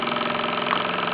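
Mamod MM2 overtype model steam engine running with tools attached, a steady close mechanical chuffing and whirring hum at an even pace, alone with no talk.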